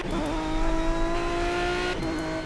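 LMP1 prototype race car engine in Project Cars on the Nordschleife, a loud sustained high-revving drone held steady, dipping briefly as the revs shift near the end.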